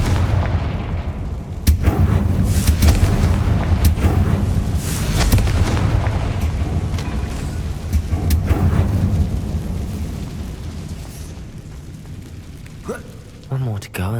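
Spell explosions from the Confringo curse in Hogwarts Legacy, a series of loud booming blasts and crackling bursts spread through the stretch over a rumbling game soundscape, fading toward the end.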